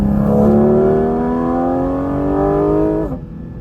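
A Porsche 718 Cayman GT4 RS engine revs loudly and climbs steadily in pitch, with a whooshing intake roar from behind the cabin, then lifts off abruptly near the end.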